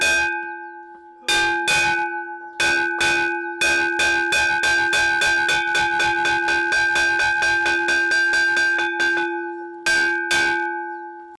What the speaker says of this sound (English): the long-awaited breakfast bell rings